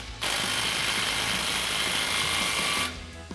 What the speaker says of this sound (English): now tighten this up with our 15mm socket